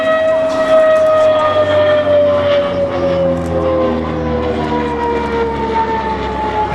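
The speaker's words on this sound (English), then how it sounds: "That sound is very unique to the boomerang." Engine note of a CAC Boomerang WWII fighter aircraft on a flyby at Temora, a loud sustained drone with a steady high whistling tone that slowly falls in pitch as it passes.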